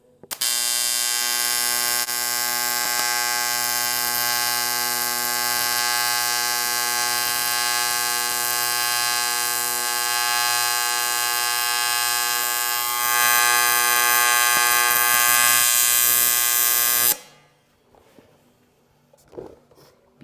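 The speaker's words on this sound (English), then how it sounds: "Now you can actually hear the weld" AC TIG welder running a steady puddle with filler rod dipped in, a loud continuous electric buzz with steady harmonic hum for about seventeen seconds before cutting off abruptly into near silence.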